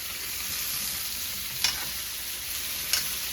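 Bottle gourd sears in oil fragrant with cumin and curry leaf, giving a steady, even sizzle with two brief sharp crackles or spatula scrapes standing out, and no talking over it.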